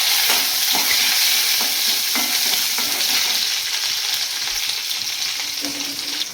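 Small onions and fennel seeds tempering in a ladle of hot oil in a heated kadai, a loud continuous sizzle with spoon-stirring scrapes, slowly easing off toward the end.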